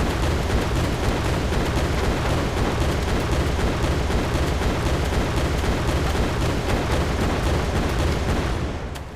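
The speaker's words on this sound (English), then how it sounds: "The player can fire a rolling fire pattern for these guns to lay down a more withering fire that's consistent." Ship guns in the Brigport Dagger video game fire a dense rolling barrage, a continuous loud wall of overlapping shots that holds steady for several seconds before easing off at the end.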